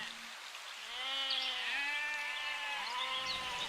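Cartoon goat bleating in a fairy-tale story, a sustained wavering bleat that starts faint and swells to a loud, drawn-out cry with a few pitch wobbles, heard alone with no talking.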